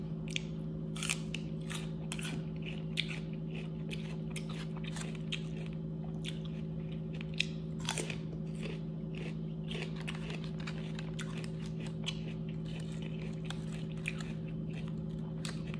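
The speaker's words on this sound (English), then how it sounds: "chewing with food in my mouth" Chicken wings with ranch and blue cheese being chewed with a full mouth, a steady run of close, wet crunching and biting sounds over a constant low background hum, with no talking.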